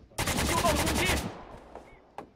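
Rapid automatic AK rifle fire from the Rules of Survival video game, a loud sustained burst of about a second of tightly spaced shots, trailing off into quieter scattered sounds.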